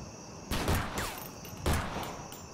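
Two sharp gunshot bursts from a video game set in a haunted mansion dungeon, loud and close, spaced about a second apart with a faint whooshing sweep between them.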